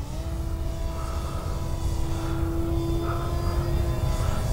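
A Hobbyzone Super Cub foam RC plane flies a loop, its small electric motor and propeller giving a steady droning whine whose pitch shifts slightly. The sound stays loud and continuous over wind noise.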